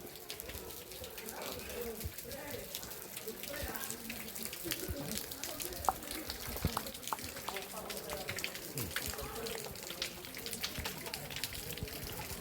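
Water runs steadily from a tap fed by a tank at Ahobilam temple, a continuous splashing stream heard close by, with faint voices in the background.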